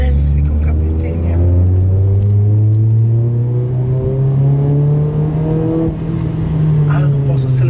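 BMW E36 engine revving up close, a loud droning note that climbs slowly in pitch and then eases off, with people talking over it.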